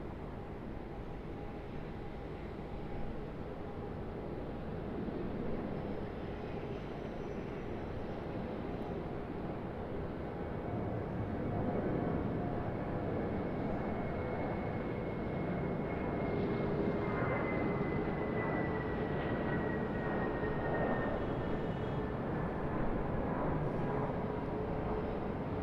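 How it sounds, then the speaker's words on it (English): Jetstar Airbus A320 taking off from Sydney Airport, a continuous jet roar swelling slightly midway, with a rising then falling engine whine sweeping across the second half, heard at a distance without any talking. "Jetstar A320 off to Melbourne, Jetstar 501. Here we go."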